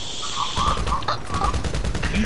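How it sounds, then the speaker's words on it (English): Gunfire in GTA 5, a quick, close burst of several shots over a steady engine-like background hum. "Stop shooting at me."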